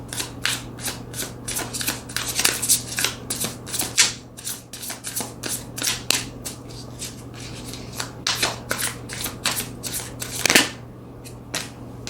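Tarot cards being shuffled by hand, a long run of rapid crisp riffling and flicking bursts with a few louder slaps, close and steady, without any talking.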